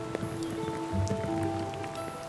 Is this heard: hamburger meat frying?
no